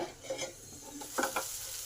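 Potatoes fry in a pan just uncovered after steaming under a lid, giving a soft, low sizzle with a few brief scraping stirs near the middle.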